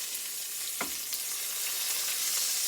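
A steak sears in a hot pan, giving a steady, close broadband sizzle with a brief crackle near the start, and no voices.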